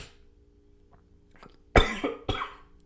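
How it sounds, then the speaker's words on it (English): A single harsh cough bursts out close to the mic, followed shortly by a second rougher cough, after a quiet stretch with faint background noise. "That was a bad cough."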